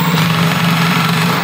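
A power driver sinks an MDF screw into chipboard during kitchen fitting, giving a short, loud, steady motor whine and grind up close.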